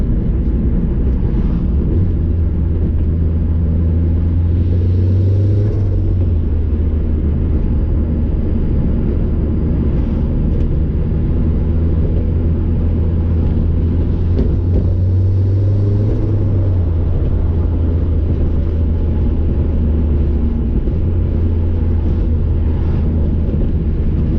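A turbocharged Mazda Miata with a hard top, running about 8 psi of boost and roughly 200 horsepower, drones loudly and steadily from inside the car, with the engine note climbing noticeably twice.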